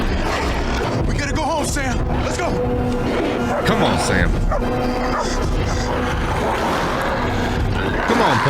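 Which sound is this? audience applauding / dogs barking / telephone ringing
dogs barking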